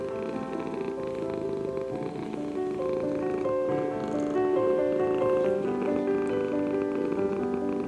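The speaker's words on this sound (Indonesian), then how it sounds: "kucing akan mengeluarkan suara seperti dengkuran saat sedang dibelai atau saat" A cat purrs steadily while being petted, a close, continuous, rumbling purr throughout with no pauses.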